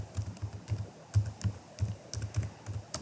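Steady typing on a computer keyboard while an accounting entry is entered, with close, moderately quiet keystrokes in an even rhythm of several taps per second throughout, and no voices.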